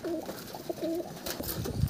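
A Madras pigeon in a loft gives a series of close, soft rolling coos in repeated short phrases, with faint shuffling and other bird noises around it.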